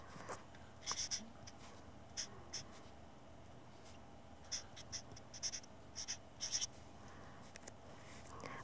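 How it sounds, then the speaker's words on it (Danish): Handwriting on paper with a pen, heard as faint scratchy strokes in short irregular bursts over a quiet room background. "Sådan med en helt Snehvide skrift, ikke bare hendes underskrift?"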